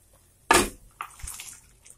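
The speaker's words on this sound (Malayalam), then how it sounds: "ഞാൻ കുറച്ച് വെള്ളം കൂടെ ചേർക്കുകയാണ്" Water is poured into a pan of green peas curry, giving a sudden splashing gush followed by a few softer sloshes and drips, close and fairly quiet.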